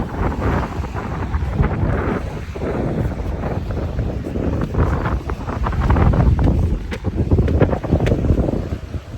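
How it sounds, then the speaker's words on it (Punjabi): Cool wind blows steadily across a quiet seashore, a continuous broadband rush with gusting buffets on the microphone and no one speaking. "ਠੰਡੀ ਠੰਡੀ ਹਵਾ ਚੱਲੀ ਜਾਂਦੀ ਹੈ"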